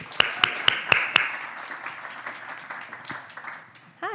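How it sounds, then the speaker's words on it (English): At a panel on blockchain and art, a few sharp claps lead into a soft, thin round of audience applause that fades out, ending with a brief burst of other sound. "help welcome all the speakers with a nice warm round of applause"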